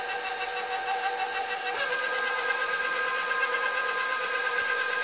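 Electric mixer running steadily at low speed through cookie dough with two large eggs, a constant whirring motor hum with a slight shift in pitch partway through, close and alone.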